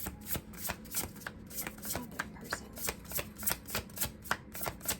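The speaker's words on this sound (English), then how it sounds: "I just saw this when I was shuffling" Tarot cards are shuffled repeatedly at close range, a rapid riffling and slapping in regular bursts with no talking.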